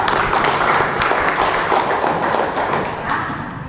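Audience applause from a gathered crowd at a community talk in Cibadak, Sukabumi, a dense, fairly loud patter of clapping that runs steadily throughout and tapers slightly toward the end.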